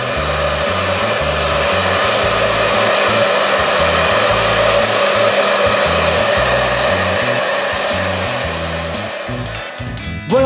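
A hair dryer blows hot air steadily and loudly at close range onto protective vinyl wrap on a Reuleaux RX200 vape mod, a continuous whooshing hum with no speech.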